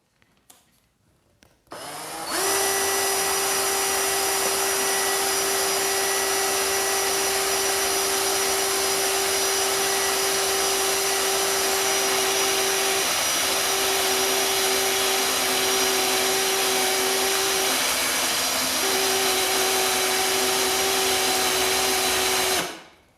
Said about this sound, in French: Je vais en percer un autre trou pour montrer.